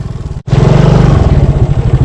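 A standard underbone motorcycle (motor bebek) rides along a muddy village road, its engine putting out a loud, close, pulsing drone after a brief dropout.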